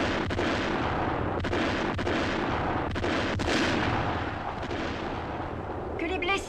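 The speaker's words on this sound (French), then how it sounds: "Mettez en marche artillerie lourde." Heavy artillery fire in a French-language war film, a dense continuous roar of booming blasts and rumbling gunfire with sharper reports near the end, loud and sustained throughout.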